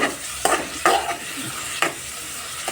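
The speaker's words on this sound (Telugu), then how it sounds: "నేనైతే ఆనియన్స్ వేసుకున్నానండి." Onions frying in about two spoons of oil in a pan, a soft sizzle broken by a few sharp scraping stirs, close up and without speech.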